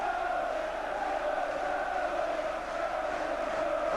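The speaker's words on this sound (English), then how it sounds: "Applause all around the crowd from the Villa fans" Aston Villa fans fill the stadium with applause during a 1988 match against Liverpool that ends 0–2. It comes across as a broad, steady crowd roar, distant and unbroken.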